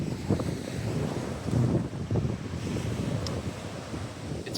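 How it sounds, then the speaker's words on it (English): Steady wind buffets the microphone at a beach, gusting in low rumbling bursts over the wash of waves rolling in. "It's pretty windy."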